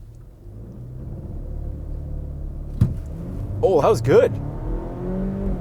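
A Volvo car engine rumbles low and steady during a brake-boost launch, with a sharp burst and short surges of revving midway as people talk over it.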